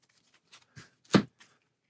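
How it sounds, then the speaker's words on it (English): Playing cards being shuffled for a Hero Realms deck-building game, a few short separate riffles and rustles, the loudest burst in the middle, with quiet pauses between. "and then we'll shuffle and get 4 more"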